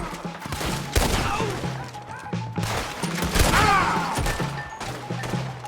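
Repeated gunfire in a chaotic firefight from the video game Red Dead Redemption 2, shots and crashing impacts blending into a loud, continuous fusillade with faint shouting mixed in.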